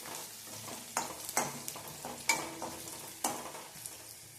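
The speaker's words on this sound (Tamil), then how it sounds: "இப்போ பூண்டு வெங்காயம் நல்லா வதங்கிருச்சு." Garlic and onion sauté in a pan with a soft continuous sizzle, punctuated by a utensil stirring and tapping against the pan in uneven strokes, close by and without talk.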